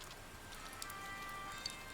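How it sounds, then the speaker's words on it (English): Steady, soft rainfall from the video game Persona 4 Golden, a quiet continuous patter that hisses evenly throughout, with no voices over it. "Weather report says this rain's gonna last all night."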